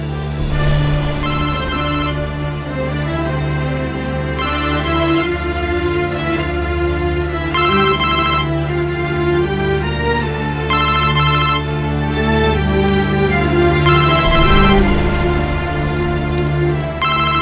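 A telephone ringing in a tense Turkish drama scene: a loud, continuous melodic ringtone repeating its tune without pause for the whole span, with no talk over it.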